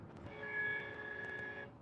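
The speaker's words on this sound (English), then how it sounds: "I got train horn." A train horn sounds from outside an RV driving east on a Southern California freeway, a steady sustained tone held for over a second above the loud, constant road and cabin rumble.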